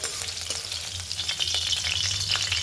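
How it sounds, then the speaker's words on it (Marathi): Green chillies for mirchi bhaji sizzle and crackle in hot oil, a busy continuous frying hiss with scattered pops and a faint low hum beneath, close up and with no talking. "तर मी तर सगळ्या मिरच्या तळून घेते आधी या पद्धतीने आणि व्यवस्थित तळण्यात"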